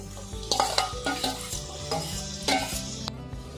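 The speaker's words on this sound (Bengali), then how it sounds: "এবার আমি শাকের সঙ্গে পেঁয়াজ রসুন কাঁকড়াটা মিশিয়ে দিই" Cress greens frying in a pan with crab, onion and garlic are stirred, giving close sizzling with several scraping strokes of a utensil against the pan, no talking.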